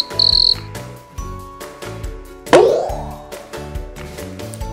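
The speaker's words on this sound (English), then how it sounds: "Cricket." A cartoon cricket chirps in a children's insect song, a bright, high trill over cheerful backing music, with a springy boing effect partway through.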